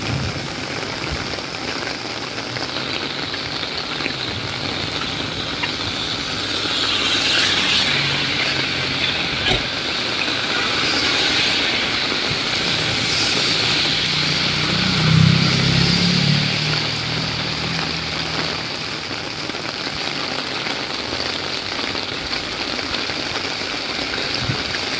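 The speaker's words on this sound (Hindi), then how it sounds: "बहुत तेज़ बारिश हो रही है और आसमान पर बिजली बहुत ज़ोर से गरज रही है" Heavy rain pours steadily and loudly for a long stretch, a dense hiss broken by a low rumbling swell midway that could be distant thunder, with no voices.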